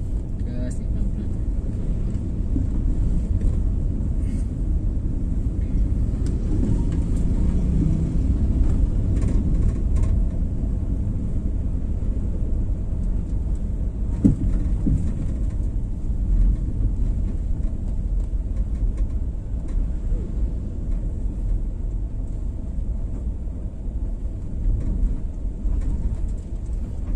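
A manual car's engine idles and hums low while the driver eases gently on the accelerator in first gear, a steady, muffled rumble from inside the cabin with a voice talking over it.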